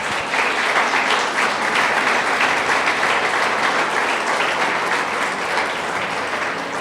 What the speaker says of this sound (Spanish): ¿Por qué no le das un fuerte aplauso a Dios?